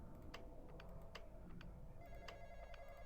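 Telephone bell in the horror video game The Lodge, a faint repeating ring in short bursts over a steady, noisy background hum.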